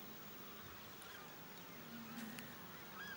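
Southern screamers, turkey-sized birds, give faint, distant goose-like honks from a noisy group in open treeless Brazilian country, scattered under steady outdoor background noise.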